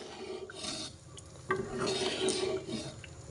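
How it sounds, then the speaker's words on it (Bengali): A thick halim mixture of rice and lentils is stirred steadily in a pot, giving a continuous close scraping and rubbing texture with brief clinks against the pot, and no voices. "চাল ডালের মিশ্রণ দেওয়ার পর থেকে কিন্তু অনবরত নাড়াচাড়া করতে হবে, না হলে কিন্তু হাঁড়ির তলাতে হালিমের মিশ্রণটি লেগে যাওয়ার সম্ভাবনা থাকে"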